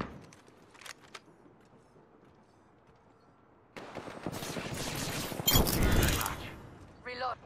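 Video game gunfire in a ranked match: quiet clicks and brief pops at first, then a loud sustained burst of shooting and explosive noise for the second half, with a voice calling out.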